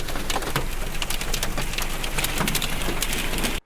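Hail pelting down in Gauteng, South Africa, a dense, steady clatter of hard drops on surfaces that stays loud and continuous throughout, with no talk.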